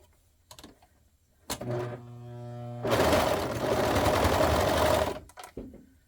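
A sewing machine stitches boxers up close, first a short tonal whir, then a sustained loud, steady run of rapid stitching that stops abruptly, with a few clicks around it.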